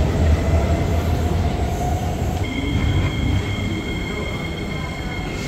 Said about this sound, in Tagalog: Ito na yung train na sasakyan ko